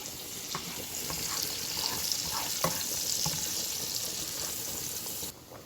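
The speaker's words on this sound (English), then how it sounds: "So now that the minced garlic is inside of the onions, we're gonna mix it and stir it, and we're gonna let it fry." Minced garlic and onions frying in a pan, a steady close sizzle with scattered clicks of stirring, cutting off abruptly near the end.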